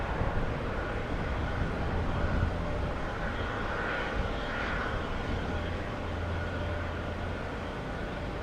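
An American airliner taking off on a windy day, a broad steady jet engine roar heard from a distance, sustained and even across the whole stretch with no talking.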